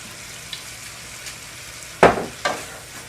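Vegetables with Worcestershire sauce sizzle gently in a pan, a faint steady frying hiss broken by two short louder bursts of stirring near the end.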